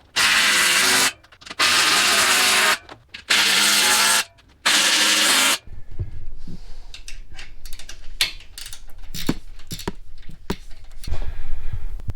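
A drill tightens fasteners on a garage shelf built above the door in four loud, close whirring bursts about a second each, followed by quieter clicks and handling noise.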